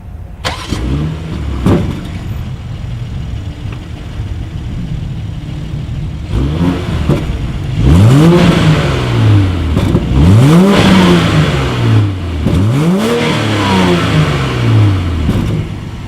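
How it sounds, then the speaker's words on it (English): A 2019 BMW X7 with dual exhaust outlets idles and is then revved in a series of sharp throttle blips, each one climbing and falling away. The revs are loud and close and get stronger in the second half. "As always, here is that exhaust clip."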